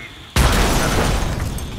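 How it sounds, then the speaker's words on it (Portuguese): An abrupt, heavy blast in Grand Theft Auto: San Andreas with a high-quality sound mod erupts and rolls on with bright, crackling debris, like glass breaking amid the roar of the explosion. "Você escuta até os vidros quebrando nesse áudio."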